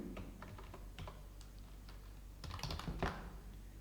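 Quiet clacking on a computer keyboard as a Python print statement is typed, a short run of soft keystrokes with a brief quicker flurry near the end.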